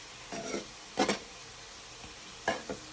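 Butter melts in a pan on the stove with a faint, steady sizzle, cut by a few brief scraping and stirring bursts against the metal, close and without speech.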